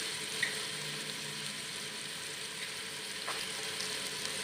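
Whole spices, ground coriander and salt frying in oil in a pan for chana pulao, a steady close sizzle throughout with a faint clink of a utensil, no talking.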